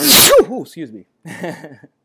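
A single loud sneeze bursts out at the start, followed by someone saying a few words of apology and thanks close to the microphone.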